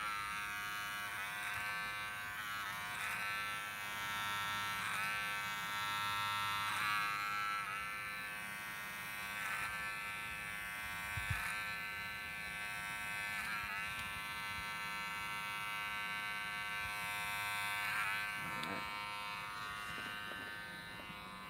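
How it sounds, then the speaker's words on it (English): An electric hair clipper used clipper-over-comb during a boy's haircut hums in a steady, close buzz for the whole stretch, its tone wavering slightly as it passes through the hair. "I just use clipper over comb for debulking"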